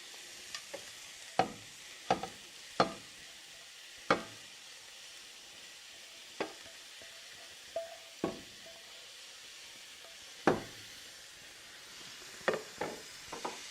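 Onions, cumin, salt and ground pepper are stirred in a sizzling frying pan, with a steady hiss of frying broken by a dozen or so sharp scrapes and knocks of the spoon against the pan.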